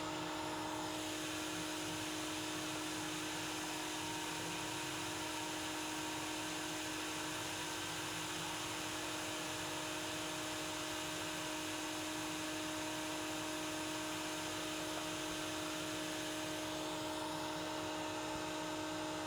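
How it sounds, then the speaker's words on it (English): Router milling a tray recess into purpleheart exotic wood scrap, a steady high-pitched motor whine with cutting noise that holds unbroken and close for the whole stretch, with no talking. "I'm slowly but surely milling away that tray"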